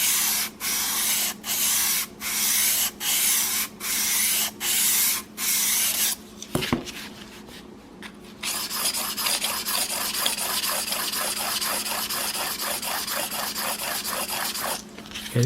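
A Samurai single bevel broadhead is stroked across a sharpening surface on its bevel side, first in about seven evenly spaced rasping strokes, then in a quicker, denser run of rubbing scrapes.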